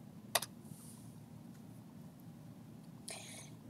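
A person types a layer name on a computer keyboard while editing an image: a quick cluster of sharp clicks early on, a pause with a soft low hum, then another short burst of keystrokes near the end, no talking.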